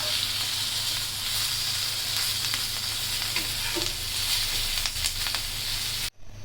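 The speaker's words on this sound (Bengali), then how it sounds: "মাছ ভাজা হয়ে গেছে, মরিচও ভাজা হয়ে গেছে।" Koi fish and chilies fry in a pan with a loud, continuous sizzle and crackle, joined by occasional stirring scrapes near the end.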